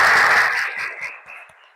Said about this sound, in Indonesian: tepuk tangan buat Bilal